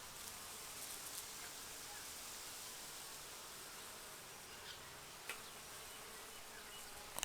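Steady, faint buzzing of many bees hovering around a rosemary plant outdoors, a soft continuous drone with occasional brief rustles.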